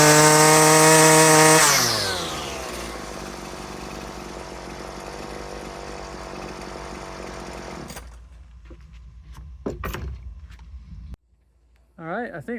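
A Husqvarna 128LD string trimmer with a newly replaced carburetor revs hard at first, then drops to a steady buzzing idle before cutting out; someone talks over the later part.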